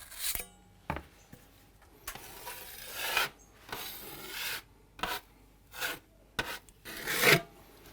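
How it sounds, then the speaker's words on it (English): A trowel spreads and smooths plaster base coat over a wall patch, producing close scraping rasps in a series of separate strokes of varying length with short quiet gaps between them. "we've mixed up some more base coat, and we're just going to apply that over and start smoothing it out"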